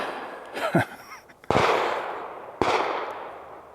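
Mossberg 930 semi-automatic 12 gauge shotgun firing, two loud close booms about a second apart with long decaying echoes outdoors, after a brief faint rustle.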